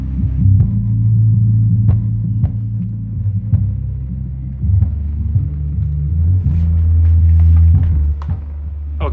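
A Yamaha subwoofer plays deep, throbbing bass, a loud sustained low rumble with shifting tones and occasional light clicks over it.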